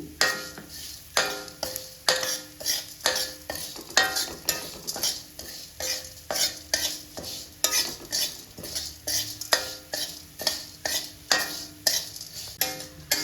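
Curry leaves roasting in a pan are stirred in a steady rhythm, each scrape of the utensil against the metal sounding close and crisp over a light sizzle, with no talking.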